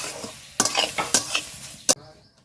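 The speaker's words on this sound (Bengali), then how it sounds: "অল্প করে জল দেব আর নাড়বো" Semolina scraped and stirred in a pan while water is added bit by bit, with sharp bursts of sizzling hiss and spoon scrapes, a loud final splash-hiss, then quiet.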